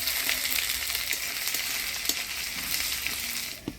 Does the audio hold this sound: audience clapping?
no